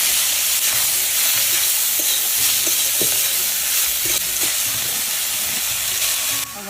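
Home-grown pea greens fry in hot oil with kalonji and green chillies, giving off a loud, dense, continuous sizzle and hiss with faint stirring scrapes underneath and no talking.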